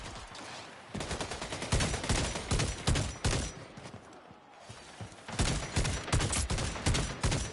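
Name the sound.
three-round burst rifle gunfire in a video game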